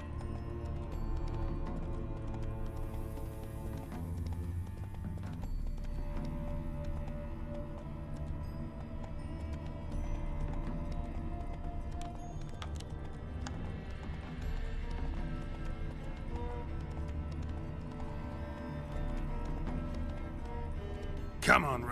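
In The Witcher 3, the horse Roach keeps up a long run of rhythmic clip-clop hoofbeats at moderate level, with speech and game ambience heard over the hooves.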